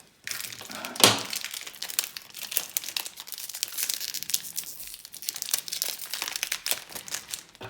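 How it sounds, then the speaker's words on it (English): A plastic-wrapped booster pack for the Hostage Negotiator card game is torn open up close, giving a sharp rip followed by steady crinkling and rustling of the wrapper that goes on for several seconds. "Let's take a look inside this booster pack to see how the cards enclosed in it look like."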